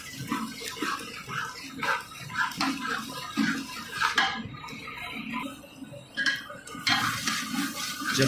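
A spoon scraping and stirring spinach roasting in ghee with spices in a pan for a dhaba-style chana dal palak, repeated metallic scrapes and soft sizzling in an irregular rhythm, close and moderately loud.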